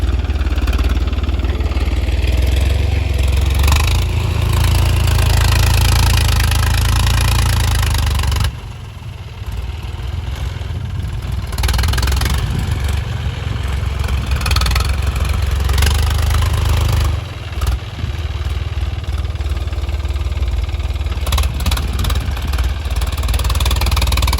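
A tractor stuck in a flooded, puddled paddy field, its engine running loud and close in a continuous drone that dips briefly a few times before resuming at full strength.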